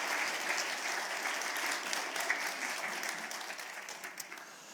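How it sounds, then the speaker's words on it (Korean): A Korean church congregation in Orange County claps to welcome the pastor during a worship service. The applause is fairly soft and heard from a distance, a steady wash of many hands that slowly thins out. "우리 목사님 박수로 한번 환영해 주시면 감사하겠습니다"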